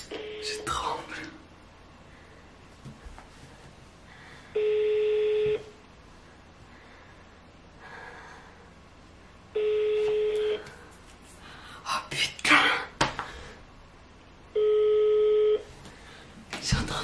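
Mobile phone keypad tones: three separate bursts of steady electronic beeps spaced several seconds apart, with quiet talk, rustling and handling noise between them.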